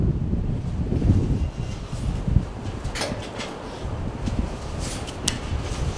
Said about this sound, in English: Wow, it's pretty windy up here.